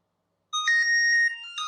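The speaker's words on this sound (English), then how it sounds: "press find the phone, and it gives a really," A phone alert set off by the find-phone feature of a Fitbit Versa Lite smartwatch: a loud, steady electronic tonal ring that begins abruptly after silence and carries on unbroken, with no voices.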